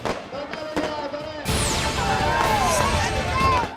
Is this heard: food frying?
no